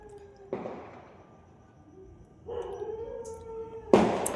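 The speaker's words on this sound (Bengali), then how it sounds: "পাশে বিয়ে বাড়ি ভীষণ বাজি ফাটছে, কিছু শোনা যাচ্ছে না।" Firecrackers bursting at a nearby wedding celebration: three sharp broadband blasts, each trailing off, with a faint tonal whine or howl-like tone between them, heard from a short distance.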